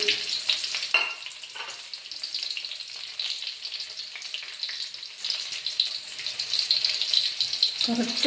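Onion frying in a pan for a Kerala kumbalanga morukary, giving a steady, bright sizzle throughout with brief bits of nearby speech over it.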